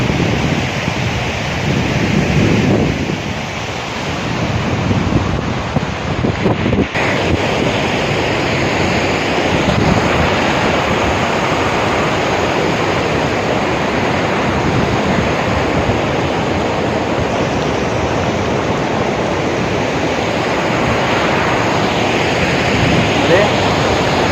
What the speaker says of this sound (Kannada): ನೀರು ಓವರ್ ಫ್ಲೋಯಿಂಗ್ ಇದೆ